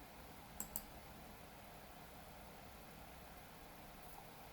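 A computer mouse gives a quick double click and then one fainter click a few seconds later, against a quiet, steady hiss.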